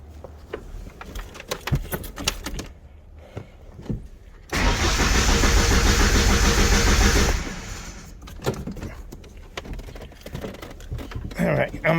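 Ford Mustang SVO with a 2.3 turbo engine and a low-voltage fault cranks and catches, running loudly for about three seconds before cutting out; clicks and tapping sounds come before and after.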